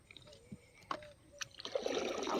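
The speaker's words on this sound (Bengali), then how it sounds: "ওই যে নৌকা বাইছে" Oars or a paddle work the water as a fishing boat is rowed on a river or pond, with soft splashes and trickling drips that build louder toward the end, close by and with no talking.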